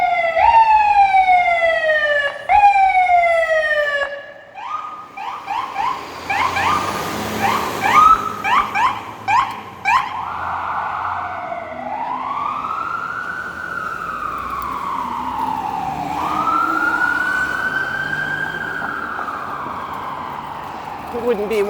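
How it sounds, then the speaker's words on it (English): A fire truck siren passes while cycling on Yonge Street in Toronto, starting with rapid yelping pulses, then long wailing sweeps that rise and fall, loud and close, over traffic rumble. "Oh, here comes a fire truck."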